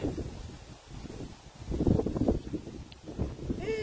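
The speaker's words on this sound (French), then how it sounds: "Il y a trop de vent." Strong outdoor wind gusts and buffets the microphone in swelling surges, loud and close, with no talk over it.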